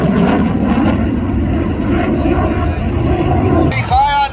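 An aircraft of the Puma tactical squadron passes low overhead at the Aeros 2021 air show in Skoke, a loud, sustained engine roar that swells and then fades, with an announcer talking over it.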